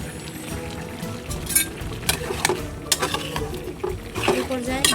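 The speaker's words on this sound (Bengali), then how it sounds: "লাউগুলো নেড়ে চেড়ে ঢেকে দিলাম" Chunks of bottle gourd cooking with rohu fish are stirred in a pot, making uneven scrapes and knocks over a low simmering sizzle, close and fairly loud.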